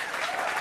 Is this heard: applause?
yes